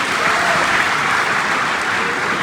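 A live comedy audience in Paris breaks into dense, sustained applause, loud and even throughout, with no voices standing out.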